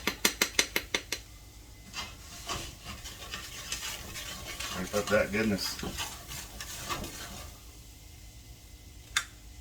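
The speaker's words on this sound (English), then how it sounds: "You hear the flour sizzle." Soft sizzle of flour frying in oil for a roux, under scraping and stirring with a wooden spoon, with a few sharp taps at the start and a voice speaking.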